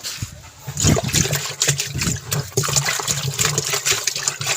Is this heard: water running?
yes